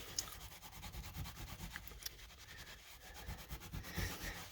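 A chrome ring on a vintage fishing reel polished by hand with rubbing compound: faint, close, continuous rubbing strokes in a quick back-and-forth rhythm, with no speech.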